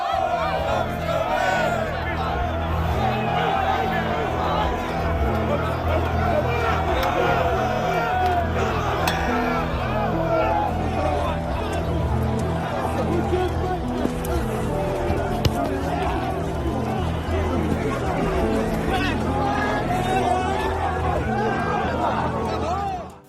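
Crowds filling London streets at night, a constant babble of many voices with scattered whoops and shouts, passing traffic and steady street noise beneath, sustained at an even level throughout.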